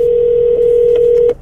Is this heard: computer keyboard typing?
no